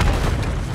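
A rocket-propelled grenade explodes in the Call of Duty Modern Warfare III shooter, a short, dense, booming blast with a rumbling body and no voices over it.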